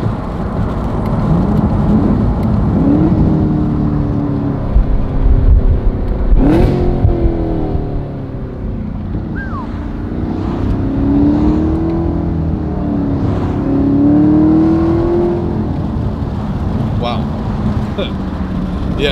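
A 2018 Camaro ZL1 with secondary catalytic converters removed rumbles loudly and continuously, with a sharp rev burst on a downshift and rising, falling tones as it shifts, under faint talk.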